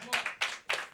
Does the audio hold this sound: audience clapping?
yes